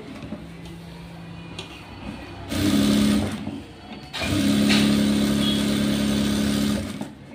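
Sewing machine stitching a blouse, running in two steady whirring bursts after a quieter stretch of motor hum, with a low rhythmic mechanical drone close by and no talking.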